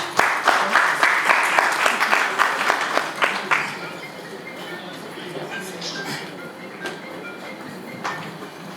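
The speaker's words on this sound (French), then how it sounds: "Merci d'applaudir pour lui, s'il vous plaît." An audience at a conference applauds: dense, loud clapping for about four seconds that thins out and fades to scattered claps and room noise.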